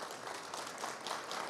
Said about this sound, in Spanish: se merecen un aplauso los profes